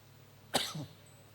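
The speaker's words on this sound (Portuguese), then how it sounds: "deixa eu tossir" A single sharp cough rings out against a quiet background with a low hum, followed by silence.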